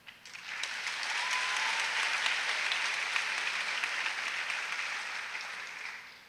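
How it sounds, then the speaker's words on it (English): Sustained applause from a school audience at an eighth grade graduation ceremony, a dense even wash of many hands clapping that swells quickly, holds steady for several seconds and tapers off at the end. "Can we please give them a round of applause?"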